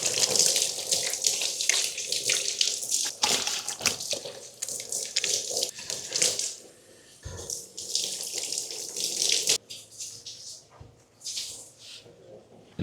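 Tap water running at the ablution area of a mosque in Japan, a loud close continuous splashing stream with hands breaking the flow, changing pitch as the water is interrupted, and faint voices at times.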